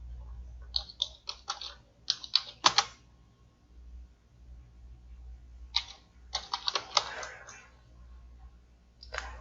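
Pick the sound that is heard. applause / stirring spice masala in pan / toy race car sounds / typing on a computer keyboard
typing on a computer keyboard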